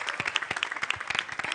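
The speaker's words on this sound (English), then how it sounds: "Can we give another applause?" A crowd at a Suffield Academy telethon gives a lively round of applause, with dense, uneven clapping from many hands nearby and no talking over it.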